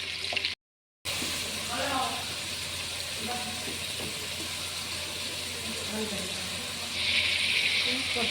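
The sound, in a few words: onions frying in oil with cinnamon, cloves, bay leaf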